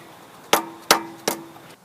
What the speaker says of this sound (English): So how do you fix a stuck float in a fuel bowl with a hammer?